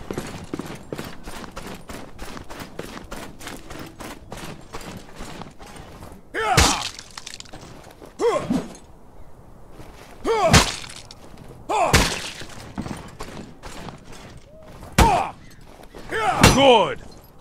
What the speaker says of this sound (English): Chop that stick up with 3 horizontal slashes.